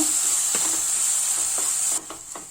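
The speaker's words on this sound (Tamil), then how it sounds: "இதை நல்லா ஒரு 2 நிமிஷத்துக்கு வதக்கிக்கோங்க" Ground masala paste sautéing in a pan for a mushroom curry, a close hissing sizzle with a few scraping stirs, the hiss dropping in level near the end.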